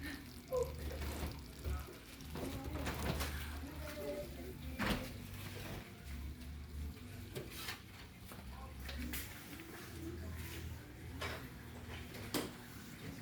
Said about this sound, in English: Look, it's just bubbling and cooking.